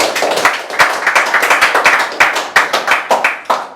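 Studio audience applauding at a French-language debate broadcast, loud, close, uneven bursts of clapping hands in a quick irregular rhythm, with no voices.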